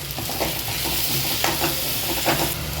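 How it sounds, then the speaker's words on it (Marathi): Chopped onion with coriander powder, red chili powder and cilantro sautés in hot tempering oil for a sprouted moth bean usal, a close, continuous sizzle broken by scraping stirs of a spoon. "कांदा आपला छान परतून झाला आहे मसाले पण सगळे परतून झाले"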